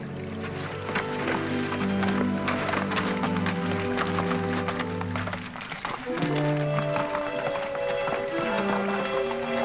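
Horse hooves clop in a steady rhythm over a constant musical background in the 1951 Western film Vengeance Valley, fairly close and moderately loud.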